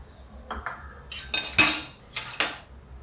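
A spoon clinks and scrapes against a bowl while flour batter with red chili powder is stirred for batata vada, making bright metallic knocks in quick bursts, close and fairly loud.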